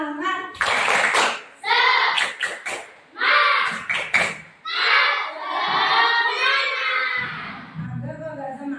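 Schoolchildren performing the tepuk semangat clapping chant, bursts of rhythmic hand claps alternating with loud group shouting and chanting voices, ending with an adult voice.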